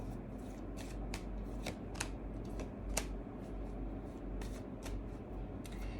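Tarot cards are shuffled in a steady run of crisp riffles and flicks, each burst of card edges snapping close and fairly quiet over a low background hum, with no voices.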